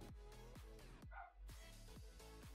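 A neighbour's dog barking next door, faint and distant, a series of muffled barks and yips repeating at an even pace in the background.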